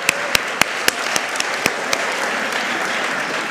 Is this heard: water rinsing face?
no